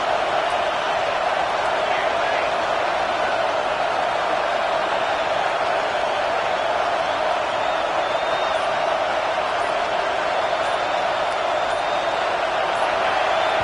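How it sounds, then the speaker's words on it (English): Stadium crowd roars loudly and continuously at an American football game, a dense sustained wall of cheering and noise with a commentator talking over it. "with this place rocking, the crowd forces a false start"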